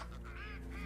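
Ducks in the video game Vintage Story give a faint honking quack, two soft calls in quick succession over a low background hum.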